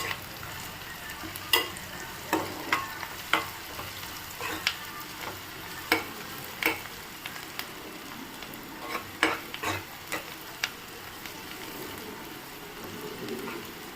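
Tomato curry frying in a pan, a soft continuous sizzle punctuated by regular scraping taps of a spoon stirring against the pan, close by and without speech.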